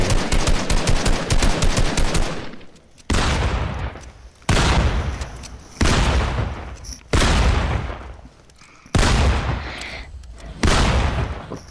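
Bursts of loud, close gunfire in about seven sustained volleys of rapid shots, each lasting a second or so and separated by brief gaps.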